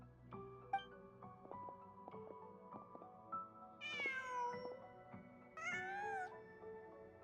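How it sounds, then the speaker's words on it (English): A cat meows twice in Genshin Impact, drawn-out, rising and falling calls heard clearly over soft melodic game music with plucked notes. "Just a cat."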